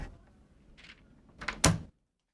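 A key slid into an office door lock and turned, a faint scrape followed by a couple of sharp metallic clicks as the lock releases, close and alone before sudden silence.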